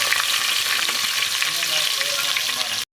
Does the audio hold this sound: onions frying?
yes